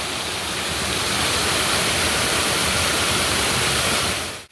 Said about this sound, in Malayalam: ഇവിടുത്തെ വെള്ളം ചാടി വരുന്ന കാഴ്ചകൾ കാണാം. ചെറിയൊരു വെള്ളച്ചാട്ടം പോലെ ഉണ്ട്.